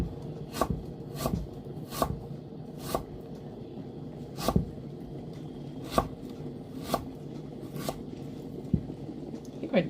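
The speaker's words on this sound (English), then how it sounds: "They don't usually cut ginger that smoothly" Fresh ginger being chopped with a freshly sharpened kitchen knife on a board, crisp knife strikes landing in a steady, unhurried rhythm about every second or so, close and distinct over a faint room hum.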